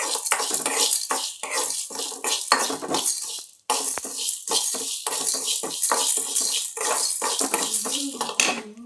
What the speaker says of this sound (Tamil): ஒண்ணா கடாயில போட்டு வறுத்துக்கலாம்.